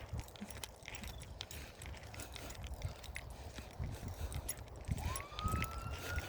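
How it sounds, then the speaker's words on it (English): Faint outdoor ambience on a riverside field with scattered rustles, then a distant emergency siren starts wailing near the end, its tone rising. "Sirens."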